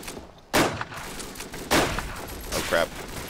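Gunfire in the First World War shooter Verdun comes as a few loud, heavy bursts of shots separated by short gaps, with voices talking underneath.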